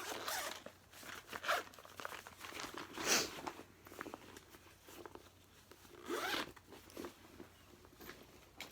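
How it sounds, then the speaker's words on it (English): A zippered clear plastic pouch for holding knitting notions is unzipped, giving a few short rasping zipper runs with soft rubbing and crinkling in between, close and fairly quiet. "I didn't unzip that all the way. It's got two zippered clear plastic things inside"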